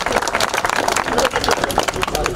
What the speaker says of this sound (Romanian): Haideți cu aplauze pentru podiumul clasei 7-a